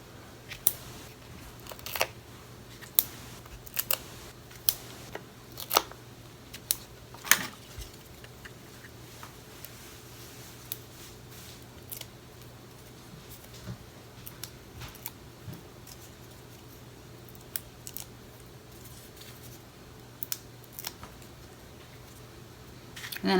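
Card stock cut with scissors while making a handmade sympathy card: faint, crisp snips and small clicks scattered irregularly across a quiet room, close by and soft.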